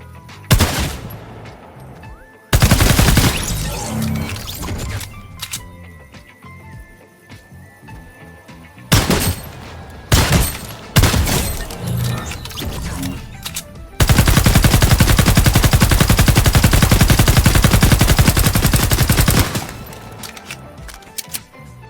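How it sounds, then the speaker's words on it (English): A scrapped exotic Burst Assault Rifle from Fortnite, built on the Chapter 2 low-tier burst rifle model but firing single shots rather than bursts, fires loud separate volleys before a long continuous stretch of rapid fire near the end. "Next we have a scrapped exotic of the Burst Assault Rifle, although it does not shoot in bursts."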